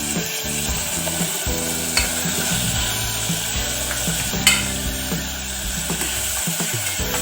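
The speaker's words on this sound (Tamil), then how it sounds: "இது ஒரு நிமிஷம் வதக்குறேன்" Beetroot sautéing in a pan for sambar, with a steady sizzle and frying hiss running throughout, broken by occasional scraping and stirring clinks from a spoon against the pan, close and moderately loud.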